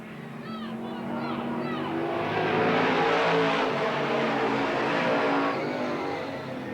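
Stock cars race down the backstretch at Eugene Speedway, a growing roar of engines that swells loud as the pack passes and then eases, while an announcer calls the race over the noise.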